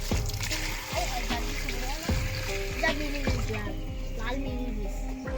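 Water poured from above over hot roasted raw lychees in a pot, a continuous splashing trickle with sizzle, sliding tonal clinks and swirls, fairly close and loud, with a voice talking over it.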